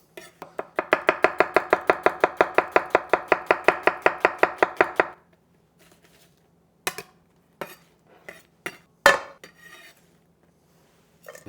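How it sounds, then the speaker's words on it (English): A knife julienning vegetables as thinly as possible on a cutting board, with a fast even run of about thirty crisp chops, followed by a few scattered clinks and taps of utensils. "And then we're just gonna julienne these."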